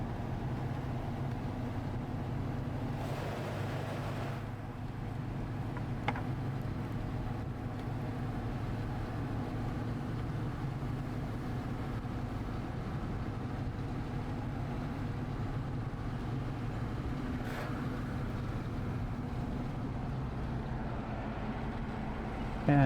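A car drives on a road under the Blue Ridge Parkway near Asheville, giving a steady, unbroken drone of tyre and engine noise with a couple of brief passing swells.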